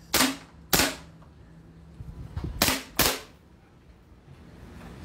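KJ Works KP-06 airsoft pistol firing, five sharp cracking shots in two quick pairs and a single, each crisp and close with short decays.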